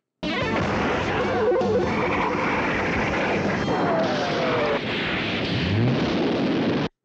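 Howling Cannon weapon blast from the Kyoryu Sentai Zyuranger tokusatsu series: a loud, sustained roaring barrage of explosive crashes and booms lasting several seconds, with no talk over it.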